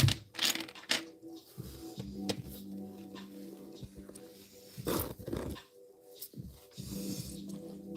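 A dog gives a few short, sharp barks in separate bursts against a quiet indoor background, with soft handling noises between them.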